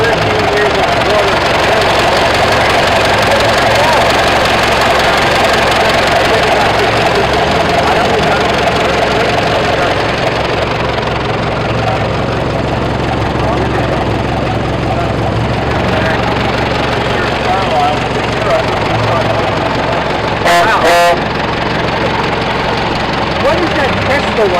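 A 1912 car engine idles steadily with a low, continuous rumble, people talking over it and a brief clatter near the end, at an outdoor car show in Florham Park, New Jersey.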